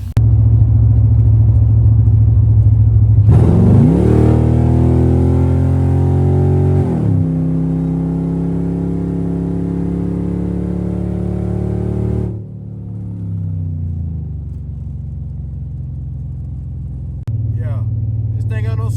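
BMW 650i revving and accelerating: a loud, close engine drone climbs steadily in pitch, holds high, then drops back to a rumbling idle, continuous throughout.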